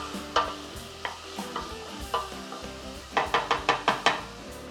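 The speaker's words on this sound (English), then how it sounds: "And let those cook down a little bit." Chopped green jalapeno and garlic cook down in a chilli con carne pan, with a steady sizzle under a series of close, sharp stirring scrapes and clacks, several coming in a quick rhythmic burst near the end.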